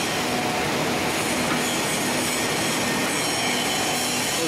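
A screw press compacting garlic waste into press cake runs at 40 RPM, giving a steady, loud broadband mechanical roar with a faint constant hum, unbroken and with no voices.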